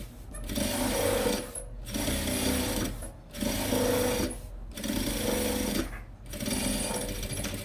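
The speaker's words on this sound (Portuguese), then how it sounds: "Já vou aproveitar e passar uma costura de segurança em volta, prendendo o material principal no forro." A sewing machine stitches a safety seam around a Kipling-style pencil case, joining outer fabric to lining in four or five steady rattling runs separated by brief pauses.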